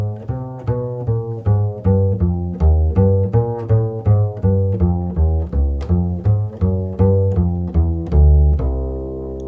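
A walking bass line moves in steady quarter notes, arpeggiating upward and stepping down the scale, each plucked note clear and resonant, ending on a held tone.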